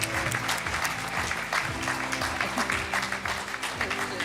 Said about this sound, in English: a massive round of applause!